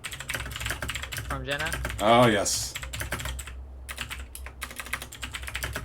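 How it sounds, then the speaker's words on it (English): Rapid clicking keystrokes on a computer keyboard during an online card-game tournament broadcast, steady and close, running under a man's brief spoken remark and a short sung or drawn-out vocal sound. "While you're typing that out as well"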